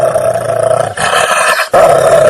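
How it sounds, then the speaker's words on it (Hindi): An angry ghost's growling in a narrated Hindi bedtime story, a loud, deep, rough snarling roar in a few sustained bursts with brief breaks, like an animal growl. "भूत गुस्से में गुर्राने लगता है।"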